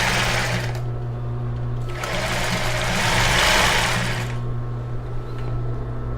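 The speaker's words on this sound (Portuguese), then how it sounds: "Então, vou começar a dar um retrocesso." Sewing machine backstitching elastic lace onto a bra, a steady close motor whir with a constant hum that swells briefly in the middle and runs alone without talk.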